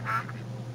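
A single short honk from a goose in the video game Rollercoaster Tycoon 3, faint over a steady low background hum.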